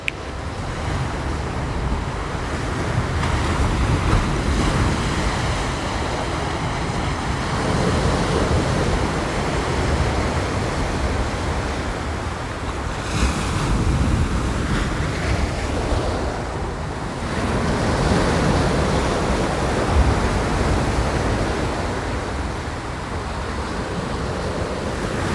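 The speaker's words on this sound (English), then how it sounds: "The good thing about the waves were they're loud and consistent" Loud, steady ocean waves roll and break on an East Coast Australian beach, a continuous roar of surf with periodic swells and some wind, close and unbroken, with no voices.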